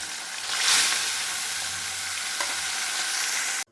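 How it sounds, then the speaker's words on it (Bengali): Katla fish pieces frying lightly in a hot pan for doi katla give a steady, close, full sizzle with continuous crackling spatter, holding evenly throughout without any talking. "এবার আমি এক এক করে মাছগুলো ভেজে নেব।"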